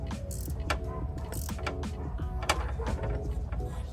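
A wrench ratchets in short clicking bursts while tightening metal fittings onto brass parts during prep work for an LS engine swap, close up and with no talking.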